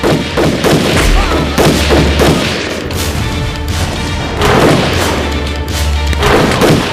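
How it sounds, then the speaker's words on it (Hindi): Loud gunfire and booming artillery fill a battle scene against an English army in the 2010 Hindi film Bhoot and Friends, with rapid shots and heavy thuds repeating densely and close throughout. "दुश्मन के सैनिक बंदूकों से गोली चला रहे थे।"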